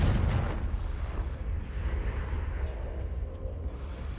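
Confringo fire spell blast in the Hogwarts Legacy video game, a loud booming burst that rolls on as a dense, rumbling roar, with a few fainter crackles near the end.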